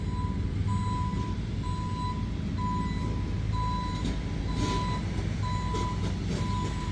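A truck's reversing alarm beeps in a steady repeating rhythm, about once every second, over a constant low engine rumble nearby.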